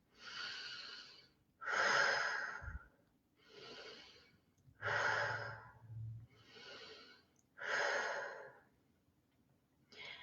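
Slow, deep meditative breaths, six long airy inhales and exhales in an even rhythm, close and soft with quiet pauses between, no speech.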